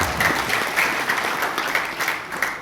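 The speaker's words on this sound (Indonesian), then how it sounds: "kita berikan tepuk tangan" Steady applause from a church congregation at a Christmas thanksgiving and anniversary service, honouring a preacher's husband who stands up; many hands clap at close range in a continuous, even burst with slight swells.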